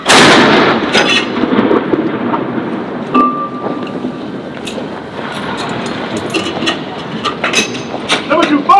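Ceremonial cannons boom in a 21-gun salute at Edinburgh Castle, loud heavy blasts spaced a few seconds apart and echoing off the stone, with shouted firing commands between shots.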